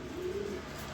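A breeding pair of grizzle pigeons coos steadily and close by, a low rolling call that holds throughout with no voices over it.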